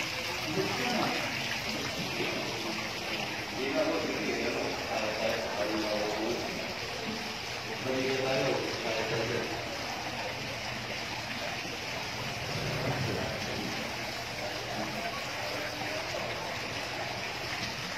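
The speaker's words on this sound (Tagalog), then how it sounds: "May mga tubig-tubig," Water from fountains at a mausoleum flows in a soft, continuous wash, faint and steady beneath people talking.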